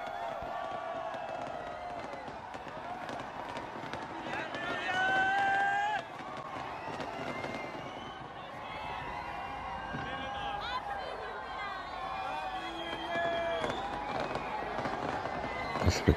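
Distant New Year fireworks from Auckland's Sky Tower popping and crackling over a crowd's murmur and cheers, with occasional whistles and a continuous outdoor din.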